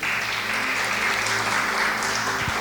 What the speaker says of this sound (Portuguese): aplauda o Senhor pela vida dele